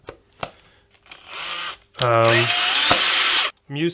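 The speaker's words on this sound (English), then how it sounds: "I am screwing in the bolts back into the neck" A power driver runs bolts back into the neck of an Epiphone SG guitar, with a short whirring burst, a longer loud whine, then a brief final spin, close up between quiet handling clicks.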